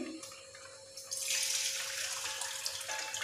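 A cup of finger millet (ragi) being washed in water in a kitchen, giving a steady close splashing and running-water wash that swells after the first second and continues without talk.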